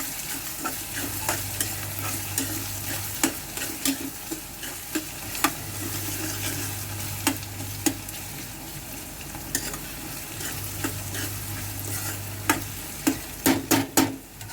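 Onions frying in a pan hiss steadily and close, with sharp clicks and taps of a spoon stirring. A low hum rises and fades in the background, and a flurry of clatter comes near the end. No one speaks.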